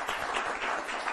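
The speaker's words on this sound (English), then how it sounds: "Please leave him a round of applause to my friend here." Applause from a magic show audience for a volunteer named Fred, a dense, steady patter of many hands clapping throughout, fairly close and with no voices on top.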